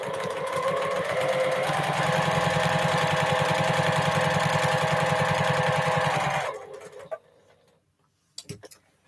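A sewing machine runs steadily with a rapid, even mechanical stitching rhythm for about six seconds, then stops abruptly, leaving near-silence broken by a couple of small clicks and handling sounds.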